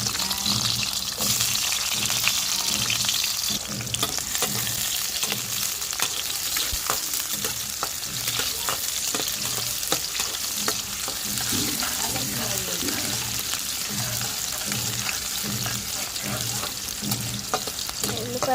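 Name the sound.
onions frying in hot oil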